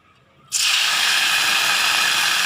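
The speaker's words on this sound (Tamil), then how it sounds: "இப்போ தண்ணி ஊற்றிக்கலாங்க." Water pours into a pot of milk heating for wedding-style payasam, starting abruptly after a brief quiet moment as a loud, steady hissing gush that continues unbroken to the end.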